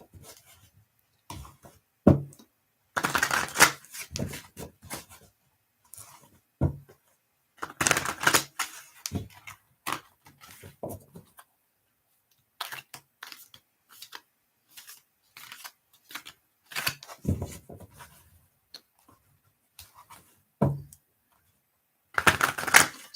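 Tarot cards riffle and snap in repeated bursts separated by short pauses, crisp and close, with quieter handling between shuffles.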